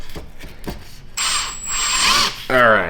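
A power driver sets a few set screws to fasten a body part on a BMW M5, its whirring bursts loud and close, with someone speaking briefly before and between them.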